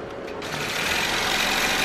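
Longarm quilting machine stitching a scallop quilt, a steady close mechanical whirr with a faint rhythmic pulse that swells slightly over a couple of seconds.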